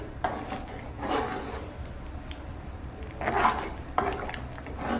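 A spoon stirs a green gram and rice mixture in a cooking pot, giving soft scraping and rubbing strokes in a few bursts, fairly quiet and close.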